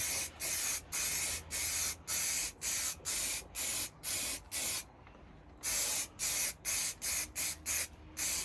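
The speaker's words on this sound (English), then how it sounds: "this will be a nice wet coat of primer because I want to get the paint on" Primer is sprayed in a wet coat onto a blast shield, a steady run of loud, close hissing bursts with short pauses between them and one longer break partway through.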